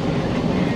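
Inside a running metro train, a loud continuous rumble of the carriage fills the moment, with a dense low roar and no distinct voices.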